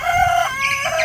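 A chicken rooster crows loudly and close by in one sustained, rising and falling call, heard alone.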